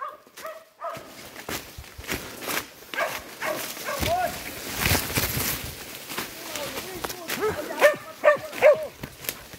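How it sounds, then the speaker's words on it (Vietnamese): A hunting dog tracking wild boar and deer barks in sharp repeated bursts with yips, moderately near, among rustling footsteps while someone talks. "Cái chó bắt được sủa căng rồi nhá anh em nhá"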